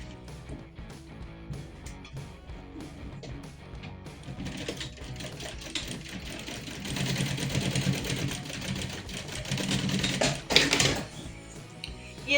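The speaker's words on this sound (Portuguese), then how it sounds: "desta forma assim eu vou fazer a costura à beirinha sem prender" A sewing machine runs a stitch along the edge of a child's preschool backpack, starting with quick intermittent needle bursts, then a steady, loud mechanical whir that speeds up before stopping; no one speaks.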